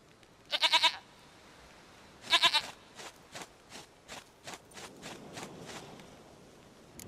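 A goat bleats in two loud bursts near the start, followed by a series of softer, evenly spaced bleats or hoof-like clicks that grow fainter toward the end.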